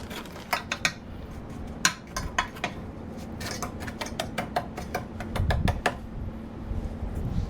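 Cake batter is spooned into cake cups for mini pineapple cakes, a run of light, quick clicks and taps of a spoon against the cups and pan, close and fairly quiet, with no voices.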